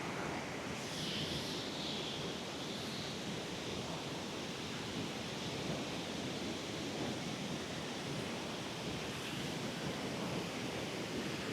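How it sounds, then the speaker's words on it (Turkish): Steady rushing of water from the Gürpınar waterfall in Levent Valley, Malatya, heard as a soft, even, continuous wash of noise with no breaks and no voices. "Böyle camlara basarak aşağıyı, şelaleden akan suyu görebiliyorsunuz."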